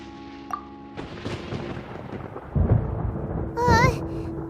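Thunderstorm in the video game Genshin Impact, with rumbling thunder and crackling bursts, the loudest booms coming late, mixed with game sound effects and a brief voice-like tone.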